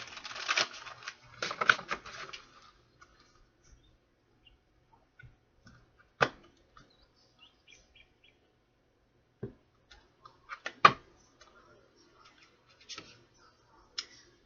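A quick flurry of oracle cards riffling and shuffling close by, followed by scattered soft taps and flicks separated by stretches of near silence.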